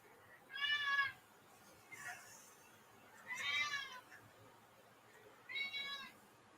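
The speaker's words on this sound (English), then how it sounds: "that's our little cat Patches making his meowing known" Three distinct meows from a small pet cat, spaced a couple of seconds apart, clear and fairly close against a quiet background.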